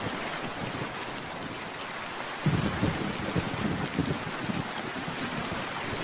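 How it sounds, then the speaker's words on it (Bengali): Heavy rain pours steadily in a cartoon village scene, a dense constant hiss that swells with a louder rumbling surge partway through, suggesting thunder, with no voices. "দেখো বাইরে কি সুন্দর ঝুম বৃষ্টি শুরু হয়েছে"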